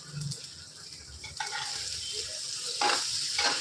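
Fish fries in hot oil with a steady hiss and crackle, loudest in brief bursts near the end; a kitchen implement gives soft scraping touches now and then.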